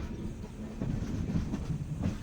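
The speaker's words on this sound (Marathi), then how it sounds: "रेल्वेच्या धडधड आवाज" A train rattles over rails, a low, steady rumble with soft rhythmic clatter, heard on its own at moderate loudness.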